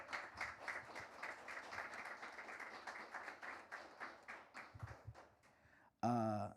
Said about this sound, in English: So please give a huge round of applause